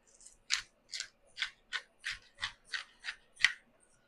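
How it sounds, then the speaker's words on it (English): A hand pepper grinder cranks out pepper in a steady series of about ten crisp, gritty clicks, quiet and close, with no voices. "Adjust my grinder so I can get some pepper."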